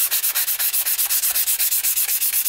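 Rapid, even back-and-forth strokes of sandpaper rub on metal SU carburettor dashpots, a loud rhythmic scratching heard up close with roughly eight strokes per second and no voices.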